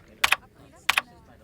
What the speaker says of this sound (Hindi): ये कंप्यूटर तो ऐसे चला रहा है जैसे टाइपराइटर चलाते हैं।